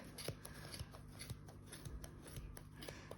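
Scissors cut through the wound yarn of a card pom-pom in a run of soft, close snips at an uneven, steady pace over a low background hum, with no voices.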